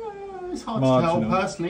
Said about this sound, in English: Oh, sorry about the cat.